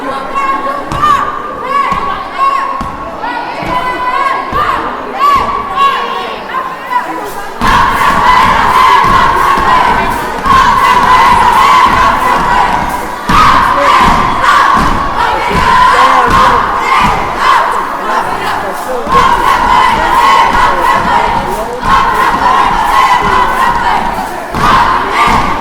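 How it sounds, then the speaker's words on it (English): A school cheer team performs a routine at a boys' basketball game, with loud rhythmic chanting and shouts over a cheering crowd and occasional thumps; the sound jumps louder after a quieter opening and stays energetic. "the glamorous Griffins going through their cheer routine"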